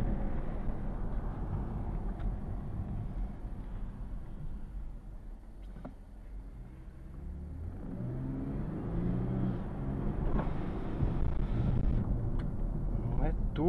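A Porsche Panamera 4 engine, sounding like a V8, runs with a deep, continuous rumble that swells and rises in pitch toward the end, while voices talk over it.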